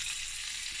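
Sausage sizzles steadily in a pan of butter, a constant close hiss of frying fat with no pauses or other sounds.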